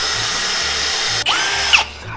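A sharpened drill bit bores into hard material, a steady power-drill whir running close and loud for about two seconds, with a brief dip and a short bite of pitch change near the end.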